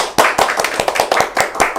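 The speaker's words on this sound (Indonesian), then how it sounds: "Oke, tepuk tangan semua." Audience clapping in time at a local tourism talk event in Pekanbaru, Riau: steady rhythmic claps, about five per second, loud and close with no talk over them.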